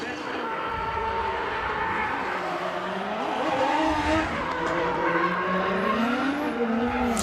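A Lada drift car races at a Russian Drift Series Grand Prix round in Nizhny Novgorod, its engine revving hard with shifting pitch and tires squealing, continuous and loud throughout.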